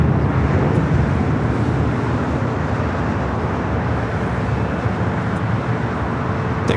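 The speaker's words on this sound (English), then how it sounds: "That is American Airlines 1437 taking off to Indianapolis on the" An American Airlines Boeing 737-800 takes off, a loud, continuous broadband jet roar that holds steady from start to finish with no voices.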